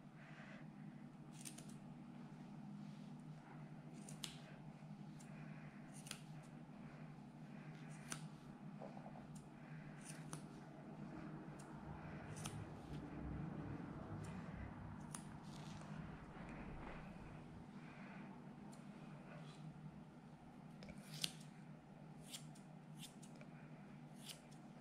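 Scissors snip through an adult angora rabbit's fur during grooming, soft repeated close cuts at an irregular rhythm over a quiet background.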